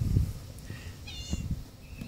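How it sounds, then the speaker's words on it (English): A house cat meows indoors, with a couple of short, fairly faint meows standing out over low background rumble. "Shut up, cat."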